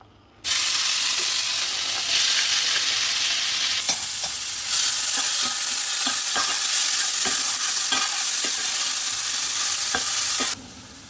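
Chopped onions hit hot oil in a pan for a chickpea curry, bursting into a loud, steady sizzle with scattered crackles and occasional stirring scrapes, then cutting off near the end.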